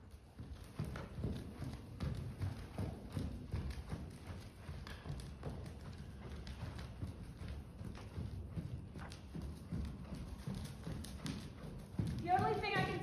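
A horse moves at a big, fast trot during a ride, its hoofbeats giving a steady rhythmic clip-clop under near-continuous talk from a rider.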